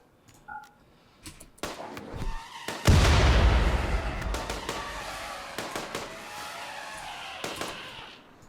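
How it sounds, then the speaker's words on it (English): A grenade explodes in a video game with a sudden loud burst that trails off into a rumbling decay, surrounded by sharp clicks and smaller game noises. "I think that grenade's going to fall short too"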